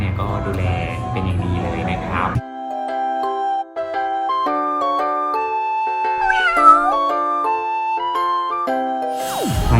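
Cats meow in a cat cafe in Kanchanaburi over bright, tinkling music, with a few distinct meow calls rising and falling midway and a noisy burst of mixed sound at the start.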